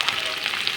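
Onions sizzle in hot oil for sabudana khichdi in a brief, steady crackling hiss close to the pan.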